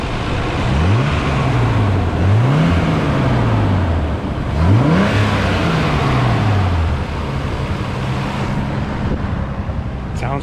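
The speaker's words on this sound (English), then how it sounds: "let me go ahead and rev this thing up really quick." A Nissan 300ZX fitted with aftermarket cold air intakes revs close by, the engine note climbing and falling in several sweeping pulls before settling back toward idle, loud and clear with no one speaking.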